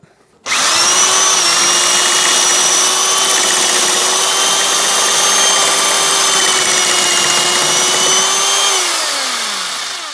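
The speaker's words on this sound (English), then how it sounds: "More drilling." Power drill with an extension bit boring into a Smart ForTwo tailgate hinge, a loud sustained whine starting abruptly after a short silence and holding steady for about eight seconds before winding down.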